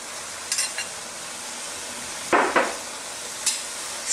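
Cabbage sautéed with beef, carrots, bay leaves and chili gets stirred in a pan, a few short scraping bursts over a low steady sizzle.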